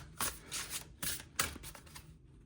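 Fairy oracle cards are shuffled by hand nearby in several quick riffling bursts, each a crisp flutter of card edges, with brief pauses between them.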